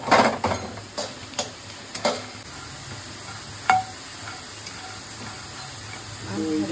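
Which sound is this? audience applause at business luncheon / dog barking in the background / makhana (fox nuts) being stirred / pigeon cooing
makhana (fox nuts) being stirred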